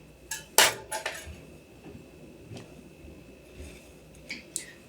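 A spoon knocks and scrapes against a mixing bowl while stirring flour into wet ingredients for einkorn bread dough, giving sharp clinks and dull taps at irregular intervals, close by with no talking.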